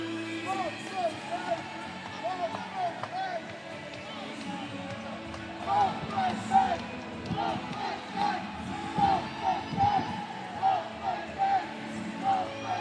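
A crowd of supporters cheers and shouts at a fight night as a fighter heads for the cage, a steady roar of voices with rising bursts of yelling.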